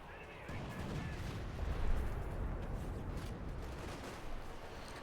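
Continuous rumbling artillery barrage in Company of Heroes 2, a dense roar of distant blasts blending into one another, swelling slightly at moments, with no clear separate shots.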